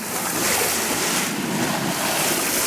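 A small sailboat sailing close-hauled in light wind of about 7 knots gives a constant close wash of water and hiss of wind, with no voices.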